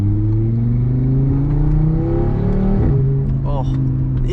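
A loud Audi RS3 engine revving up with rising pitch sweeps, then dropping through downshifts with short crackling burbles, heard close from inside the car on a drive.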